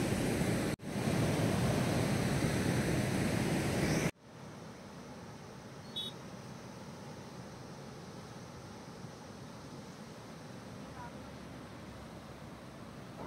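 Water rushing through the Teesta barrage dam, a steady loud wash of flowing water that cuts to a softer, more distant roar partway through, with wind buffeting the microphone.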